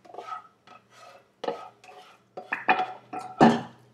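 A spoon or whisk scrapes and clinks against a bowl while stirring quiche filling, in uneven bursts of gentle mixing strokes with brief pauses, close and fairly quiet.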